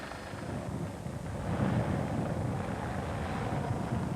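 A helicopter hovers low over a 1990 professional road cycling race stage in Sheffield, its rotors making a faint, steady rumble mixed with wind buffeting the microphone, rising slightly after the first second and holding with no talking.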